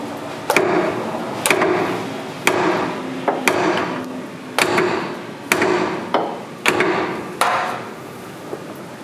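Metal hammer blows strike the underside of a BMW with an LS engine swap, aimed at the exhaust or differential: about nine loud ringing hits at a steady, unhurried rhythm, each with a short echo, no talking.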